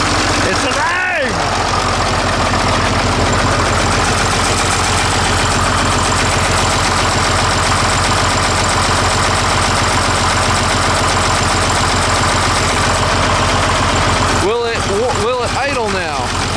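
An old tractor engine idles steadily and loud throughout, a low, even mechanical drone with brief higher chirps and rattles near the start and toward the end.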